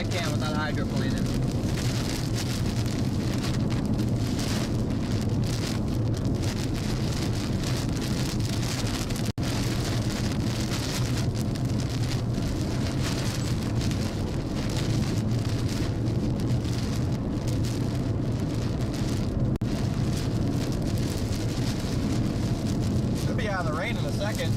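Heavy rain pounds a storm-chase car speeding down a rural Texas road during a tornado chase, a steady loud roar with road and engine rumble underneath, continuous throughout, with voices talking in the cabin.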